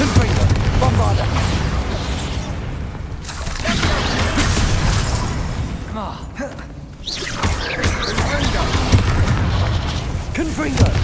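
Fiery Confringo spell blasts in Hogwarts Legacy combat: repeated heavy booms and crackling bursts roll one after another at close range, with a voice calling out between them.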